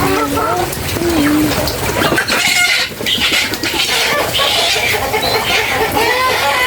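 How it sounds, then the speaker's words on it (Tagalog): Small pet chickens cluck and chirp during a flood, mixed into a loud, continuous wash of rushing water and background noise, with voices present. "yung mga alaga naming manok, yung mga maliliit, ikinukulong niya muna"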